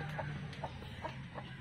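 Clucking from a brooding hen sitting on a nest of eggs, several short soft clucks in an irregular rhythm, close by over a steady background hum, with no talking.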